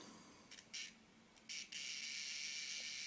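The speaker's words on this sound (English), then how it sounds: "you can hear the self timer is trying to" Self-timer mechanism of a Werra 1 camera's Synchro Compur leaf shutter in worn, sticky condition, giving a few faint, brief mechanical clicks followed by a steady, quiet buzzing whir, close up with no talking.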